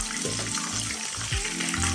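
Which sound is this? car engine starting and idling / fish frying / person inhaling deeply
fish frying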